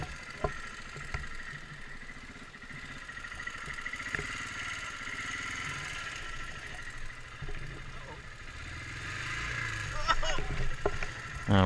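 Dual-sport motorcycle on a wet trail, either a Husqvarna 701 or a BMW F800GS, idles steadily and then gives a throttle burst as it rides over a slippery wet board. Engine stays close and continuous, with a louder surge near the end.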